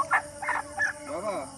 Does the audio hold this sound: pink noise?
no